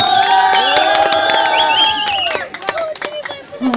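A crowd at a community gathering in Ramechhap claps, cheers and whoops to welcome a singer, dense lively noise with shouting voices that thins into scattered claps toward the end.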